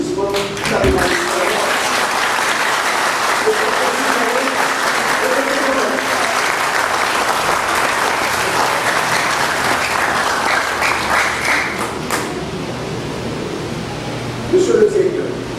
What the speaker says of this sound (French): Je demande au directeur président de se lever pour recevoir des applaudissements.